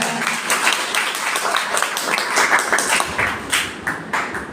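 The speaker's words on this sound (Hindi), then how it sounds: "और दोनों टीमों के लिए भरपूर तालियां।" Audience applause for both teams at a boys' school quiz competition on the life of Quaid-e-Azam, a steady patter of many hands clapping at moderate loudness throughout, with a few sharper individual claps standing out.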